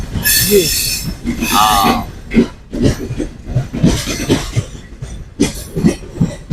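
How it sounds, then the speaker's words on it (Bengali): A train rolls through Dhaka's Airport railway station, a loud continuous rumble with screeching wheel squeals near the start, heard close by while voices talk over it. "এই যে ট্রেনটা চলে যাইলো এটা কি কমলাপুর যাবে না"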